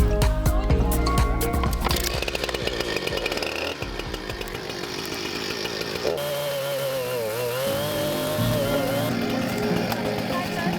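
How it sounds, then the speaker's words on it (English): A loud, close chainsaw engine whine that revs and drops repeatedly while clearing huge thorny brush, with voices mixed in over the noise. "I'm gonna need you to get the chainsaw."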